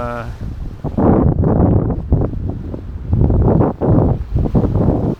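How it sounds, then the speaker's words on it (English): Strong wind of up to 28 knots roars and buffets the microphone while sailing at sea among waves up to 2 metres high near the Friul Islands, in loud gusty bursts that rise and fall. "Pretty tough conditions today. I had wind speeds up to 28 knots, and the waves were some even 2 meters high."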